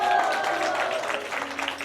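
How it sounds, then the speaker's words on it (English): Applause from an audience at a devotional drama performance, a short burst of clapping that fades a little over under two seconds, with a voice carrying over it. "Let's give him a round of applause."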